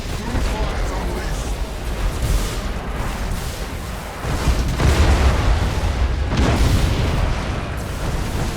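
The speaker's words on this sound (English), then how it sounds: "Let's get a nice close-in view for the final explosions." Starship explosions in the space-battle game Battlefleet Gothic Armada 2, a dense continuous roar of booms and bursts with heavier blasts swelling midway, loud and sustained with a voice speaking underneath.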